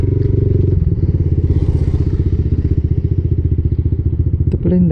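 Motorcycle ridden slowly along a narrow path near Montemaria, Batangas, with a loud, close engine chugging in a steady rapid rhythm, a brief clatter near the end, and no talk.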